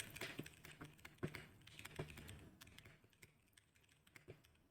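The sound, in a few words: typing a message on a computer keyboard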